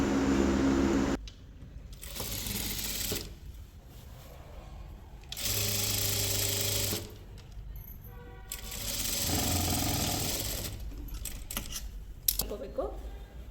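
A sewing machine stitches pants fabric in three steady runs of a few seconds each, separated by pauses, with someone talking between the bursts.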